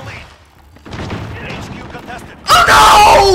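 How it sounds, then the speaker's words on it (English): A flashbang grenade bursts in Call of Duty: Modern Warfare, a sudden loud blast with a bright ringing tail that cuts in after a few seconds of quieter game noise and muffled player chatter. "Flashbang."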